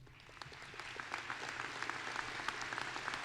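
Applause from the crowd at a university spring commencement ceremony, a steady wash of many hands clapping at moderate distance, even and continuous throughout with scattered sharper claps.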